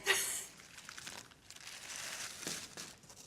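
A thin plastic carrier bag holding biscuits crinkles and rustles as it is handled, a loud crisp burst at first, then continuous softer crumpling with another sharp crackle later, close up.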